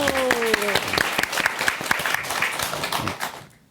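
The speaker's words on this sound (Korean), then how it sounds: "와, 박수" An audience applauds a guest on a Korean Buddhist testimony talk show. A voice rings out at the start, then sharp, close claps blend into a dense round of clapping that fades away at the end.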